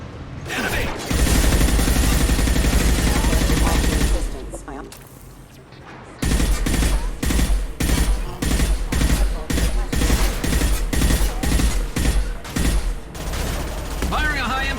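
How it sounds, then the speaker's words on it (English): Gunfire in the Mass Effect 2 Legendary Edition video game: about four seconds of loud, sustained shooting, a short lull, then a steady run of evenly spaced, punchy shots that continues to the end. "Firing a high-impact shot!"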